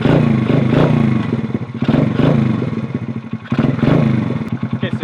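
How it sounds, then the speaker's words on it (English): 6-volt motorcycle engine running at a rough, uneven idle with a chugging, pulsing beat and some mechanical clatter, heard close and steady without talk. "So once I turn the engine on,"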